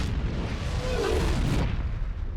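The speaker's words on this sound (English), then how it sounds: "here you have the atomic explosion from the self-destruct device" An atomic blast from a Predator self-destruct device sweeping across an Aztec city, a film effect: one sustained, loud rumbling roar with a rising whoosh that swells around the middle, heard alone.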